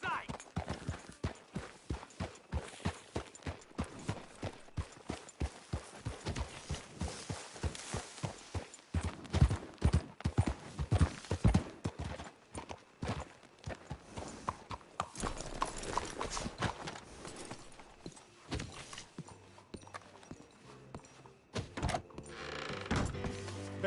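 Horse hooves clip-clop steadily in Red Dead Redemption 2, a rhythmic run of close, distinct hoof strikes that continues throughout, with game voices talking over parts of it.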